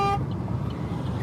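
A short car horn honk sounds at the very start, a brief tonal blast that cuts off quickly, followed by a low rumble of traffic on a city street.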